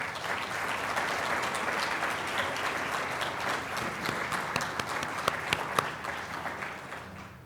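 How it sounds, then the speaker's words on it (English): Audience applause fills an annual meeting hall, a steady wash of many hands clapping at moderate volume for several seconds, with a few sharper individual claps standing out near the end. "Please give her a round of applause."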